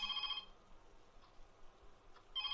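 Telephone ringing in two short electronic bursts separated by a quiet gap of about two seconds, faint and somewhat distant in a still room, with no one speaking.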